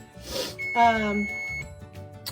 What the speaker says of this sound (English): Turn off the timer here.